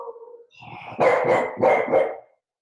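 A dog barks several times in close succession, loud and near, each bark a sharp burst with a whiny edge, ending after about two seconds with no talk over it.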